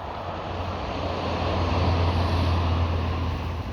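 Loud, continuous roar of M6 motorway traffic, a broad steady rumble that swells slightly midway and stays constant throughout.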